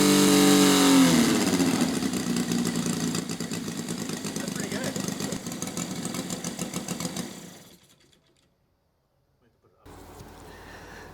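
Gas engine of a CY 84-inch span F8F Bearcat RC plane running steadily and loudly up close for about seven seconds, then cutting out into silence before a quieter sound returns.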